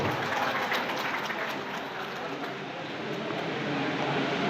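Steady applause from an audience honouring singers of the Ramalingam Kalamandali troupe at a BC rights gathering, a continuous, dense patter of hands that holds evenly for several seconds without a break.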